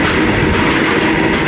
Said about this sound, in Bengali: আর এখানে এসে দেখলাম যে একটা মালগাড়ি পাস হচ্ছে।